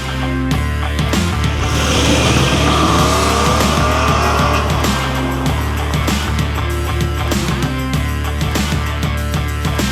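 A Porsche 911 of the 997 generation drives, its engine loud and close, holding a steady roar with tire and road noise over nearly ten seconds and no talking.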